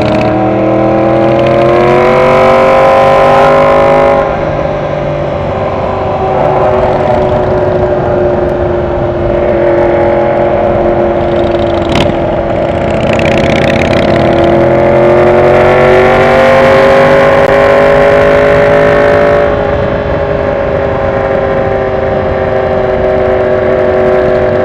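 A 2017 Harley-Davidson Midnight motorcycle riding through downtown Atlanta, its engine a loud, close, continuous drone with gently rising and falling pitch as the throttle shifts, alone without voices for about 25 seconds.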